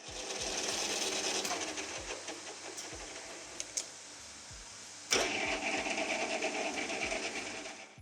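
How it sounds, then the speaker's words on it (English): A hobby lathe drills a center spot and a small pilot hole through metal, producing a steady mechanical whir with light scraping and a few knocks, briefly dipping before the motor noise resumes at full strength. "I can drill a little center spot and run a small pilot drill through the center."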